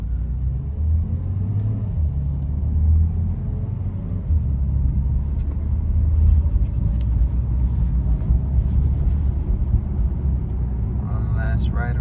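A BMW M3 F80 driving around town, a steady low engine and road rumble heard from inside the car, with a voice talking over it.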